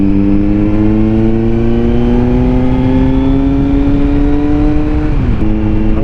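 A Kawasaki Z900 motorcycle fitted with a Leo Vince exhaust, ridden along a straight open road, drones loud and steady with a rising engine note and a brief dip near the end, heard continuously without talk.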